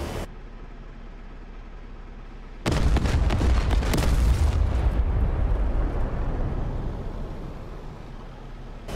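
Rockets fired from an A-10C attack jet in a flight combat game strike a ground target in an urban area, erupting in a sudden loud, rumbling blast that roars on for several seconds before slowly easing into a low rumble.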